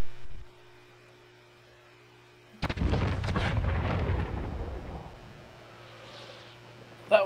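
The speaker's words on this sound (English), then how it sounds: "That was a big explosion." A deep explosion in Call of Duty Warzone booms and rumbles for a couple of seconds, then fades into a low background hum.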